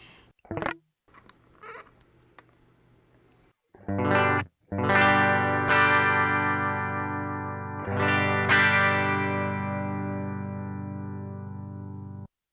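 Distorted electric guitar chords through a Line 6 Helix amp simulator ring out through heavy amp processing, a few short stabs followed by long sustained, loud chords that slowly fade.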